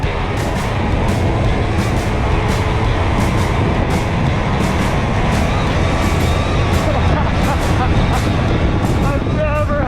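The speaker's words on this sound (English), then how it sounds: "I've never had this bike wide open for this long. That's full throttle." A dirt bike built for ice riding, engine held wide open at full throttle, a loud continuous roar with steady ticking rattles over it, close up for the whole stretch.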